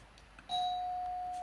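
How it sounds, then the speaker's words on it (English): A single electronic doorbell chime rings indoors at home, a clean sustained tone that starts abruptly and rings on evenly to the end, fairly loud against a quiet room. "the doorbell just went as I was recording that video"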